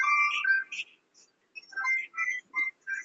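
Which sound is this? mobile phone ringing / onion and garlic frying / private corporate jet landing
mobile phone ringing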